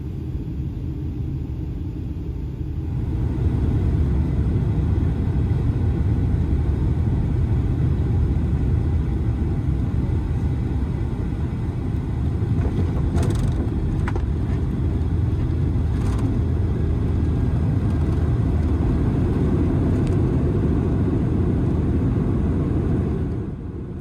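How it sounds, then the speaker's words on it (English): Inside the cabin of a United Boeing 757 airliner as it comes in to land: a loud, steady low rumble that swells slightly early on and holds constant, with a few faint clicks above it. "we're landing on a beautiful West Coast morning."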